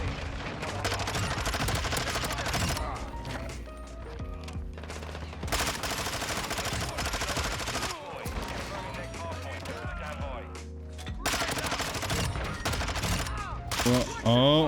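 Vaznev-9K submachine gun hip fire in Modern Warfare 2, heard as several loud bursts of rapid automatic gunfire separated by short pauses, with game sounds in between.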